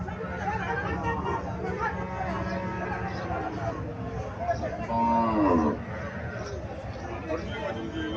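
A dairy cow lets out a single loud, drawn-out moo midway through, amid the busy chatter and babble of a crowded outdoor cattle market in Comilla, Bangladesh.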